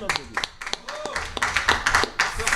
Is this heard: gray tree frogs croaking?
no